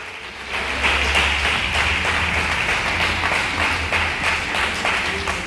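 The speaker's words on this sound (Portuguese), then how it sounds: "Vamos aplaudir o Senhor pela sua palavra." Church congregation applauding together, a steady dense wash of many hands clapping that holds at an even loudness throughout, with a low hum underneath.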